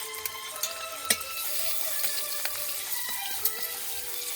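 Green beans fry in a pan, giving a continuous close sizzle with a few small pops and stirring clicks.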